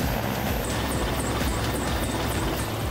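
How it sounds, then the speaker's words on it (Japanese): A helicopter taking off from an Antarctic icebreaker ship; its rotor thumps rhythmically under a loud, steady engine whine, close by and continuous. "ヘリコプターがしらせを発艦します"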